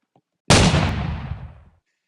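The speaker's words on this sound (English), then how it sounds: "the gunshot just sounds like a firework, bro. It's so loud." A single loud gunshot in the Roblox game Tower Defense Simulator: one sharp, booming blast followed by a long ringing decay of about a second, heard alone and close.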